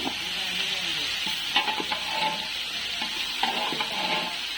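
Chickpeas with ginger, cumin and garam masala stir-fry in a pan at a fast-food cafe, giving a continuous sizzle broken by repeated metallic scrapes and clinks of the spatula.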